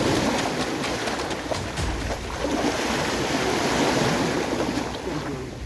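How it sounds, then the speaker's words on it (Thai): Sea waves at the seaside roll and wash steadily, a loud continuous surf roar with wind buffeting the microphone and no voices. "ตัดกลับไปที่ทะเลเลย"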